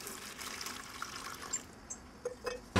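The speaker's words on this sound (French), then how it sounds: "D'abord un petit peu d'eau." Water poured into a bucket to mix tile adhesive makes a soft splashing trickle, then a few drips and light knocks, close and quiet.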